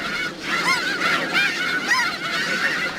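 Snow geese give a chorus of repeated nasal honks, overlapping cries rising and falling in quick succession from a noisy flock, fairly close and continuous with no voices.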